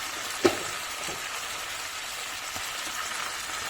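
Liver roasting in a pan for liver maqluba gives a steady, faint sizzle throughout, with one sharp clink of a utensil near the start and a softer tap later, no voices.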